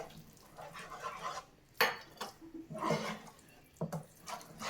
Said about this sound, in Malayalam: ഇതെല്ലാം കൂടെ ഒന്ന് നല്ലതുപോലെ മിക്സ് ചെയ്തെടുക്കാം